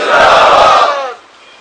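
A crowd at a religious mehfil gathering roars a religious slogan in unison, a loud massed shout lasting about a second before trailing off into a fading murmur.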